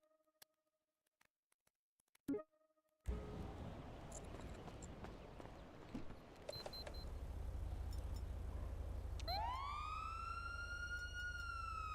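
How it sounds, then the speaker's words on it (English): A police siren starts abruptly after a few quiet clicks and taps, first as a low rumbling drone, then sweeping upward in rising wails, loud and sustained. "You see how loud that siren is."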